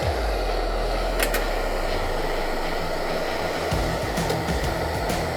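A gas torch flame roars steadily while annealing brass .308 cartridge cases spinning in a machine, a loud continuous breathy rush with a low motor drone and faint clicks and stuttering underneath.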